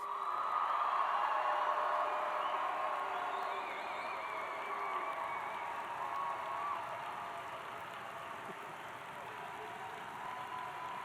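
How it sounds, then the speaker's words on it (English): A large crowd at a university commencement in an arena cheers and applauds in a continuous, echoing roar that slowly eases off over several seconds. "go make as much noise as you want. Cheer for our graduates"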